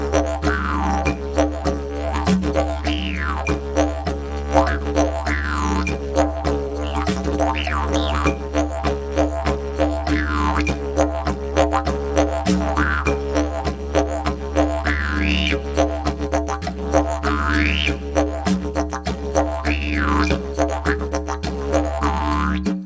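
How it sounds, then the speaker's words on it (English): A didgeridoo drone runs steadily beneath a busy, grooving egg shaker rhythm, the two playing together continuously without any voices. "And so that kind of shaker, also the little eggs, will give you a full sound with a lot of groove."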